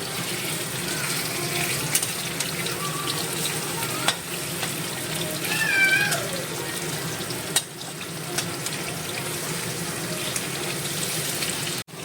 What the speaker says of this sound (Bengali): ভাত ভাজা চলছে।